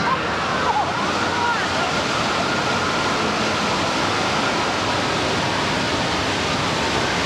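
Steady rushing flood water on the Universal Studios back lot tram ride fills the scene, a broad continuous gush and slosh with no pauses, loud and close throughout.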